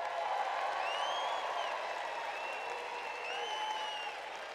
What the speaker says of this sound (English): Let's hear a cheer for the graduates right now